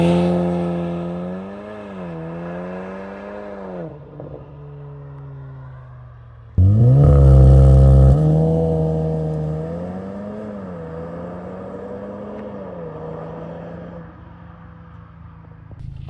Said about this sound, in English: let's do a launch control right here